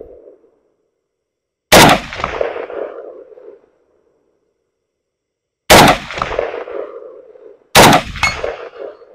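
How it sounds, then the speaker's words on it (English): Three sharp rifle shots crack out at an outdoor range while a Primary Arms SLx 3x micro prism scope is being zeroed, each one loud and close with a lingering echo, separated by seconds of silence. "I just put a few rounds in"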